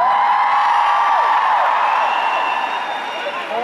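A concert crowd at Arena Leipzig cheering and whooping loudly at a Sunrise Avenue show, a dense sustained roar with high shrill whistles riding on top, slowly easing toward the end.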